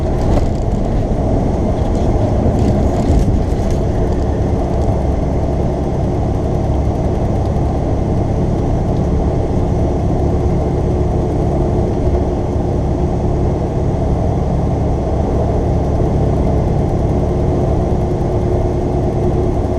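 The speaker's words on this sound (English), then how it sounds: "what is it with oversized load trucks and having to pass everyone on the damn road?" An oversized load truck passes on the road, its steady engine rumble and tire roar filling the scene continuously at close range, heavy and unbroken with no talk.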